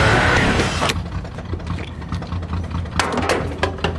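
A car engine left running, idling steadily with a low mid-range drone, a sharp clank near the start and another around three seconds over the continuous hum.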